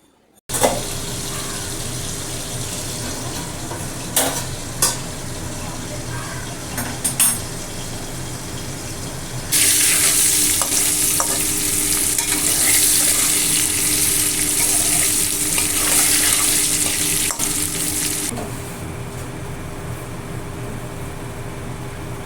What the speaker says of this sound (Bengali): এখন মাছগুলো ভাজব আর মাছগুলো যখন কড়াইতে দিচ্ছি